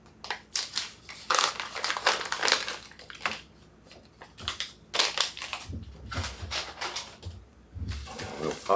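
A pack of 300cc oxygen absorbers is torn open and handled, giving repeated loud crinkling and crunching bursts of packaging close up, with brief pauses between.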